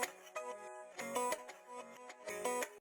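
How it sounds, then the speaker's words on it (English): A short guitar loop with swelling, reversed-sounding notes that fade in and cut off abruptly, repeating in a choppy rhythm. "It's got a really cool, nice reverse effect on it."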